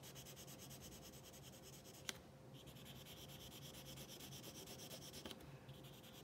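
Arteza Expert colored pencils pressed hard and blended across paper for a galaxy background drawing, a steady soft rubbing and scratching that runs close and continuous, broken by two brief sharp taps.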